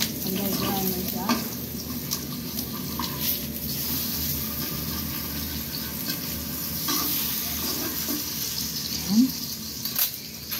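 Sweet potato leaves cooking as adobo in a pan, a steady sizzle and frying hiss running throughout with occasional stirring clatter and faint background noise.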